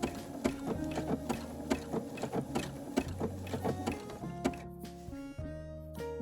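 A sewing machine stitches binding onto a quilt, its needle thumping in a fast, steady rhythm up close, with a short slowdown and a few lighter stitches near the end.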